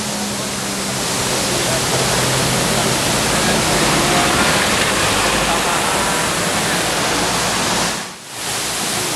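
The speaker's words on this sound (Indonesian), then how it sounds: "itu air terjun Lembah Anai." The Lembah Anai waterfall in West Sumatra roars as a loud, continuous broadband rush of falling water, steady and close, with a brief dip near the end.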